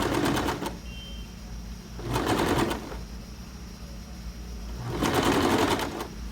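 A sewing machine stitches a blouse seam one centimetre from the edge, running in three bursts of rapid whirring separated by short pauses, close and steady.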